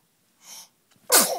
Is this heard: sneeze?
yes